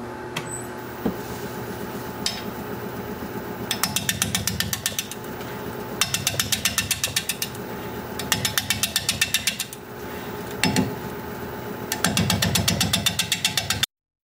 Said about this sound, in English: this is pretty out of balance, so the best I can do is about 460 RPM. I've got my 5/8 inch bowl gouge sharpened up